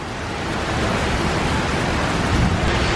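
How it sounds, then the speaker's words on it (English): Heavy rain pours down steadily during a Florida storm, a dense, loud, continuous hiss that fills the whole stretch without a break. "What a downpour."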